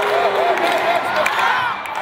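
A crowd cheers and shouts at a private-school volleyball match in Piauí, with a steady, dense roar of voices and whistle-like calls that holds throughout and eases slightly near the end.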